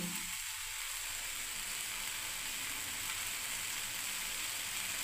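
Masala fries in oil for ghugni with a steady, soft sizzle that holds evenly throughout, with no voices over it.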